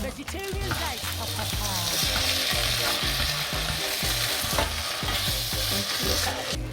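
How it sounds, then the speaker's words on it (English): A vegan bolognese sizzles in a saucepan while being mixed with spaghetti, giving a dense, close hiss broken by rapid clinks and scrapes of stirring. "in this saucepan because I'm mixing some of the bolognese to it"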